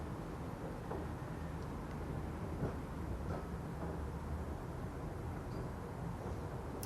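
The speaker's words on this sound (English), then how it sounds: "In the distance we have a Sydney tram coming up to the tram stop here at the Tram Museum" A Sydney tram, numbered 611, approaches a tram stop at a tram museum with a low rumbling, steady and distant, a faint rattle growing slowly over constant background noise.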